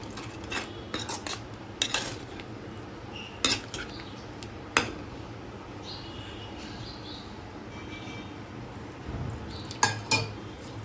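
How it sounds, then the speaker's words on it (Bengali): A spoon stirs a spiced kofta curry mixture of jackfruit with whisked sour yogurt, making light, irregular metallic clinks and scrapes against the pan. The sounds come up close and fairly faint, with gaps between them. "এবার এর মধ্যে দিয়ে দিচ্ছি আগে থেকে ফেটিয়ে রাখা টক দই। টক দই দিয়েও ভালোভাবে নাড়িয়ে নেব।"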